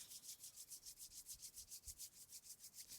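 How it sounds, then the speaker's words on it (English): Palms rub briskly together in a steady back-and-forth rhythm of about a dozen soft, close swishing strokes, with no voice over them. "Then rubbing your palms together to create some energy."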